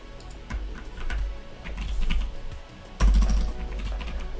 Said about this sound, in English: You type in your desired hostname and password.